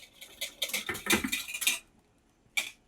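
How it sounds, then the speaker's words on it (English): Eggs for Eggs Benedict being whisked in a metal bowl over a pot: quick, rhythmic metallic clinks and scrapes for nearly two seconds, a pause, then one more short burst, close and fairly quiet. "we want to make sure that we are continuously whisking, just so that the eggs do not start to cook"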